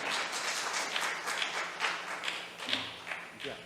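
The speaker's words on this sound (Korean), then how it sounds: "네, 큰 박수 부탁드리겠습니다" A student conference audience gives light, fairly faint applause as a presenter is introduced, with scattered claps rising and falling and soft voices near the end.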